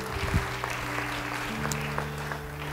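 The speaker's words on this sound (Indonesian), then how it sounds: "Yang mau demikian beri tepuk tangan bagi Tuhan." Church congregation clapping at a sermon service, a dense spread of hand claps running steadily across the stretch, moderately loud, with a low sustained hum beneath.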